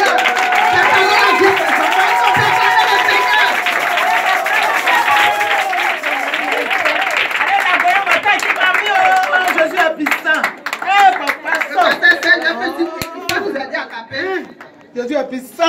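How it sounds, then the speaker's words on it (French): A church crowd at an Easter performance by children of a prophet's foundation applauds and cheers for the Lord, loud, dense clapping sustained throughout with voices and singing mixed in, the applause thinning toward the end. "Est-ce qu'on peut acclamer le Seigneur?"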